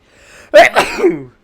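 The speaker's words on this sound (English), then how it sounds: "Uh-oh, we gotta sneeze." A single loud, close sneeze from a man, a short breathy intake followed by a sharp burst that trails off, heard alone.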